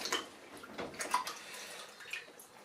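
A hand rummages through standing water inside a blocked toilet, giving faint, irregular sloshing and trickling splashes close by, with no talking.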